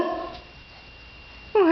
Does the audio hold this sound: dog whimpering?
yes